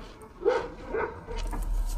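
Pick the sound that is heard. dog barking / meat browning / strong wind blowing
dog barking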